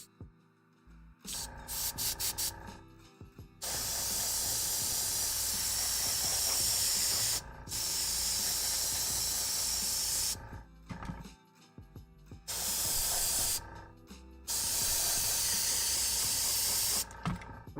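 A hobby airbrush hisses out paint in several steady bursts of a few seconds each, separated by short pauses with faint clicks, recorded close and fairly quiet.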